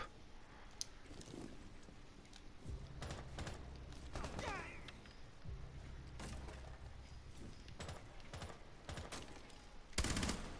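Rapid gunfire in a 3-versus-5 team video game shooter, with several bursts of shots across the clip and a louder burst at the end, mixed with game sounds.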